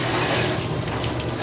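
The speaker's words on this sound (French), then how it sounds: "On va les rincer, juste pour enlever un peu le..." Pasta being rinsed under a running kitchen tap, a steady, close rush of water filling the whole moment with no pauses.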